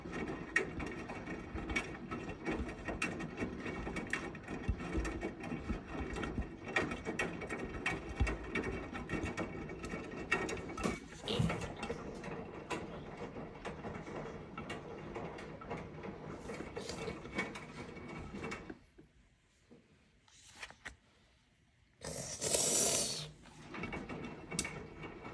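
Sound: Samsung washing machine running

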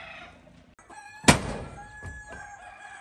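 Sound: chickens, rooster crowing

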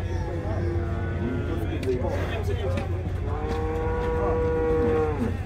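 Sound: cattle at a livestock market

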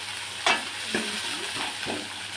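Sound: boiled potatoes added and stirred in frying pan with turmeric

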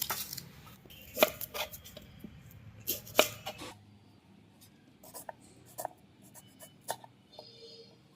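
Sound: chopping green chillies into pieces

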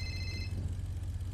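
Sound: phone ringing in video game GTA V NoPixel roleplay

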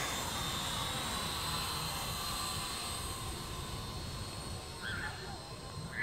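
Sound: Star Wars speeder toy drone flying

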